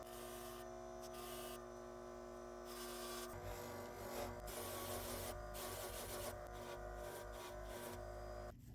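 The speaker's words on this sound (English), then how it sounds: "I'm going to use my hobby buffer to polish and buff the case" A bench-mounted hobby buffer polishes a stainless steel and ceramic watch case, giving a steady, continuous whirring drone with a rubbing, rasping texture that rises slightly as the parts are pressed to the wheel.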